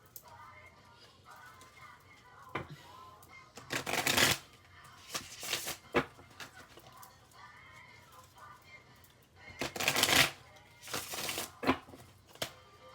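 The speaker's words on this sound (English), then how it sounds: "I'm going to shuffle it one more time, and then I'm going to cut the cards" Several bursts of cards being shuffled, crisp riffling rattles separated by quieter gaps, close and fairly loud with faint background noise.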